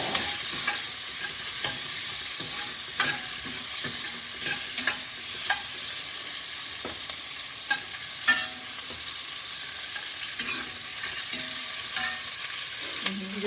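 A big onion stirred in a frying pan as soup preparation begins, with a steady sizzle and repeated scraping stir strokes throughout, close and moderately loud, no voices.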